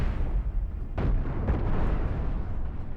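Missiles striking a ship in the space game Cosmoteer, two distinct heavy booming impacts about half a second apart over a dense rumbling battle din.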